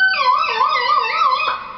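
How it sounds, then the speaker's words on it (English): A synthesizer tone, played from the expressionPad app on an iPad, bends its pitch up and down across a whole-octave range in a smooth wavering glide, held alone and fading slightly at the end. "I could go nuts and increase the range to a whole octave and it'll sound like this."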